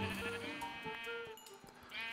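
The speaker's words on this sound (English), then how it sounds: "Oh, cool. Some sheep." Sheep in the video game Minecraft bleat several times in quick wavering calls over quiet game ambience, moderately loud and close.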